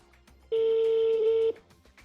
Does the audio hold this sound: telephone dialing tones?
yes